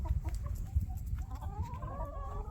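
Chickens clucking near a house during a power outage, several short clucks and calls in an irregular run, with a steady low rumble underneath.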